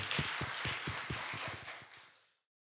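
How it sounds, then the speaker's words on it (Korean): A church congregation claps together in a steady, even rhythm, about a dozen sharp collective claps that fade out toward the end, heard alone without talk. "우리 하나님께 감사와 영광의 박수 올려드리겠습니다"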